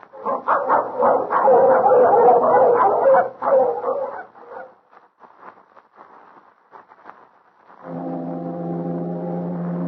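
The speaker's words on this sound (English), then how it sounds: "That's foghorn." A deep, steady foghorn blast sounds near the end, after a dog barks and whimpers repeatedly.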